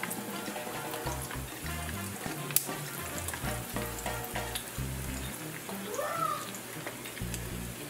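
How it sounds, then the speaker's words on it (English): Saltfish accra fritters, one-inch scoops of batter, sizzle and crackle steadily in hot oil in a frying pan, with a continuous close frying hiss and occasional clinks and stirring noises. "This is a 1-inch scoop, so they're gonna fry up pretty quickly."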